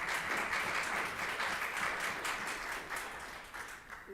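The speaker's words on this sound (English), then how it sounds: "So I just want to give you a round of applause," Faint, steady clapping from a small group rolls through a U.S. House Agriculture Committee hearing room, a brief round of applause heard at a distance.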